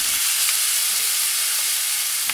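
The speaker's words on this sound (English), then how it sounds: "you want to hear a super loud sizzle right when you drop the steak into the pan" A steak hits a very hot pan and sizzles loudly and continuously, a bright close hiss that stays strong throughout without fading.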